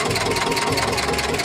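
An old Eicher 364 tractor with a Ricardo engine idles in a steady low, throbbing diesel rumble with even pulsing, close and loud, alone without talk.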